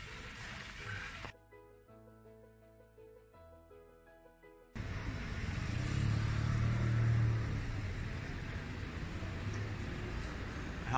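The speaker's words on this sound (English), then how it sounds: "Another motorcycle outside." A motorcycle passes outside on a street in Sanremo or Ventimiglia, Italy, rising as a loud, steady engine rumble after a quieter stretch with music-like tones, then holding for several seconds.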